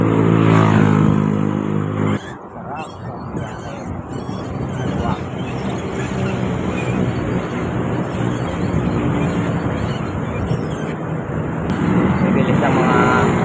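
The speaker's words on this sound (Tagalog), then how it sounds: "Bilis ng mga nakamotor." Motorcycles speed past on an open road near a hypermarket, engine noise rising and fading in quick succession over steady loud traffic and wind, with a person talking over part of it.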